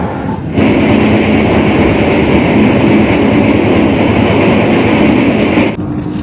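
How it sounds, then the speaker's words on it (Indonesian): The Jaka Tingkir passenger train pulls out of Kroya station in Cilacap at night, a loud, steady rolling rumble with faint clatter heard from on board, starting and ending with abrupt shifts in level. "KA Jaka Tingkir kembali diberangkatkan dari stasiun Kroya, Kabupaten Cilacap jam 2 lebih 6 menit"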